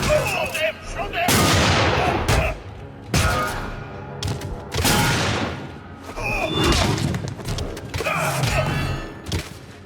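Gunfire in the Captain America: Super Soldier video game, with repeated loud bursts of shots and heavy thuds in dense bursts across the whole stretch, set amid a battle soundtrack.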